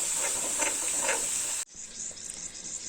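Garlic frying in hot oil in a kadhai, a steady sizzling hiss that cuts off abruptly partway, leaving a quieter, fainter crackle.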